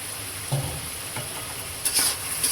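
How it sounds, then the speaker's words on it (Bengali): Shrimp frying in spice paste in a pan, a continuous close sizzle with a few stirring scrapes and no voices. "মশলা কষানো হয়ে গেছে। এখন চিংড়ি মাছটা দিয়ে দিবি।"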